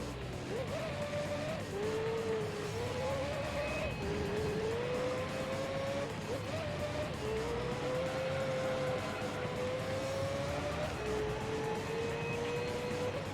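Race car engines in Gran Turismo 3 during a long endurance race with a Corvette in the field, a continuous high engine whine rising through the gears with repeated shifts, tire noise beneath.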